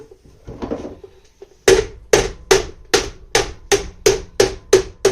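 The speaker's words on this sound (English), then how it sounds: "We're going to try to get that tucked in by hammering it down." Metal on a homemade chicken processing cone is hammered down in about nine sharp, evenly spaced blows, each ringing briefly after some softer handling noises.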